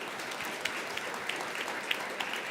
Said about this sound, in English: A big round of applause for all the speakers that you heard from today.